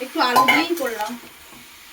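Potato, carrot and cabbage being stir-fried in a pan for chowmein, with utensil scraping and clattering against the pan, light frying noise, and a voice talking over the first second.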